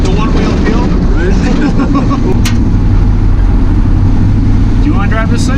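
A 1969 Dodge D100 Sweptline pickup truck drives hard with a loud, heavy rumble and rushing wind noise throughout, while a tire breaks loose. Voices are faintly audible beneath the engine roar.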